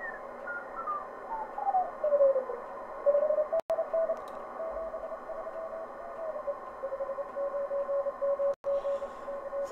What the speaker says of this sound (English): So there's the CW